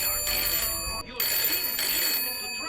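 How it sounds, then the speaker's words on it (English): A telephone ringing in repeated electronic bursts with a short break between them, loud and close, with voices speaking over the ringing. "It's a phone."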